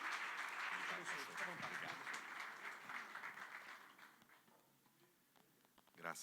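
A church congregation applauds loudly and densely, a sustained wash of clapping that gradually thins and fades toward the end, with a short sharp burst of claps at the very close.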